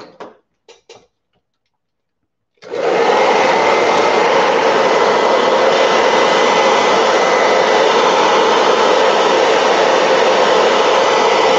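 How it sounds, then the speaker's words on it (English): A hair dryer drying a gelli print switches on after a few soft clicks and then blows with a loud, steady, close whoosh that runs unbroken to the end. "This hair dryer's got a cool setting"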